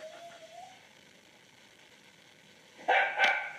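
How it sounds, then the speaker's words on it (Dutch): A dog gives two sharp barks close by near the end, after a stretch of quiet background hum and a faint tone at the start. "Die hond leeft nog steeds."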